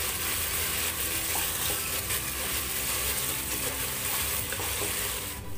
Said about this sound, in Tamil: இஞ்சி பூண்டு பேஸ்ட்டை நல்லா எண்ணெயிலேயே வதக்கிக்கலாம்.